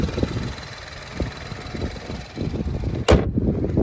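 A 2024 Nissan Rogue SV with a 1.5-litre VC turbo four-cylinder engine idles with a low, uneven, shaking rumble, and a sharp click or knock cuts in near the end.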